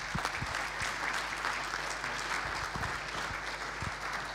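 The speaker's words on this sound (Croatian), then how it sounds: "Pozdravimo ga jednim pljeskom." An audience claps in warm, steady applause at a robotics alumni event in a hall, a dense, even patter of many hands lasting throughout without anyone speaking.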